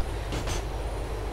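A Grand Theft Auto IV video game train is heard riding between stations: a steady low rumble with a couple of brief hissing swells, with no talk over it.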